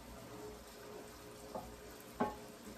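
Big shrimp fry in a pan with a faint, continuous sizzle, broken by two brief soft clatters near the end, and no talking.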